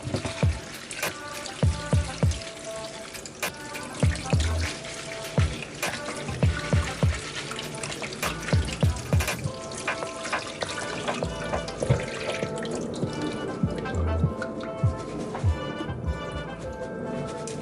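Tap water runs steadily into a sink while kale is washed and roughly squeezed by hand, with irregular splashes and wet slaps up close and no talking.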